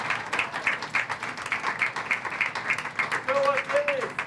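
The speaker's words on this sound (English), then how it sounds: "I just want to give a huge round of applause to our panelists, Terrell, Sarah, Wesley, Francesco." An audience applauds panelists at an event on guide running with Achilles International, with steady mid-level clapping running throughout and some voices and a brief tonal sound near the end.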